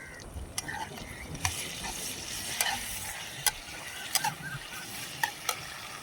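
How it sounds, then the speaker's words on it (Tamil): Onions and tomatoes sauté in a pan for duck gravy, with a constant soft sizzle broken by sharp clicks of a utensil stirring against the pan. "வெங்காயம் வதங்கிடுச்சு. தக்காளி போட்டுக்கலாம்."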